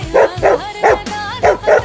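Dog giving a quick series of about five loud, close, high-pitched yipping barks in an uneven rhythm, with a short whine between them.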